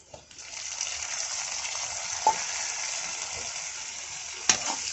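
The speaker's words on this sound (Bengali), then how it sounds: "নেড়ে দিব, নেড়ে চেড়ে কষিয়ে নেব।" Onions fry with turmeric, oil and salt while being stirred, an even close sizzle broken by a couple of sharp clinks from the spoon, with no talking.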